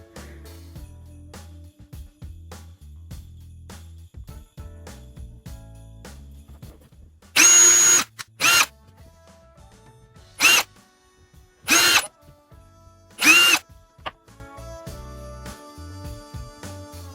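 A power drill runs in five short, loud bursts of high whirring, separated by quieter handling noises, during a Dollar Tree Christmas craft project.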